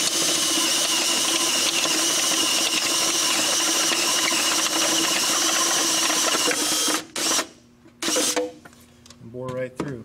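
A power drill bores a 1-inch hole through a billet motor plate on a Polaris Pro chassis, with a loud, steady grinding whine for about seven seconds before it stops and then restarts in short bursts.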